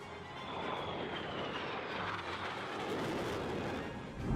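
A Boeing F/A-18 Super Hornet twin-engine multi-role fighter jet roars in a loud, steady, broadband rush that holds without a break throughout.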